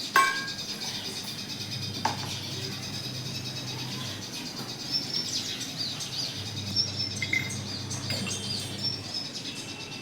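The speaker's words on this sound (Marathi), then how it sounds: "पक्ष्यांचा आवाज दाखवते तुम्हाला किती छान" Birds chirping in a home garden among flowering plants, with scattered light calls and tweets set against a soft outdoor background.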